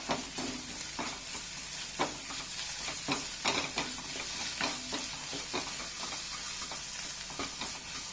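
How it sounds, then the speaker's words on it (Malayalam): Chilli powder masala with salt being stirred in a pan over a steady sizzling hiss, with repeated scraping strokes of a spoon, close and fairly quiet, with no voices. "ഇനി ഇത് നമുക്ക് നന്നായിട്ടൊന്ന് ഇളക്കി നമ്മൾ ചേർത്ത മുളക് പൊടിയുടെ പച്ചമണമൊക്കെ ഒന്ന് മാറുന്നവരെ ഒന്ന് ഇളക്കി കൊടുക്കാം"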